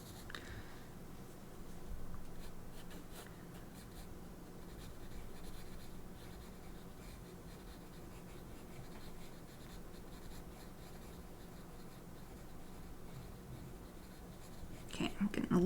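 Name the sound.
pencil drawing on paper during live art session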